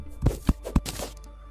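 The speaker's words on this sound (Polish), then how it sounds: "Dobra, kopmy tego crafting table." Crafting table being broken in Terraria: three quick dull thunking hits in a row, close and fairly loud, then a brief fading rustle.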